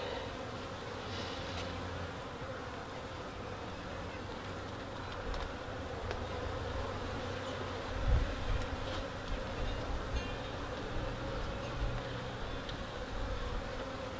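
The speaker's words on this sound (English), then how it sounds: "Now that we got our new hive set up already and the bees are in there" Honeybees buzz around a newly set-up hive in an urban apiary, a steady soft drone of many insects close by with no talk over it.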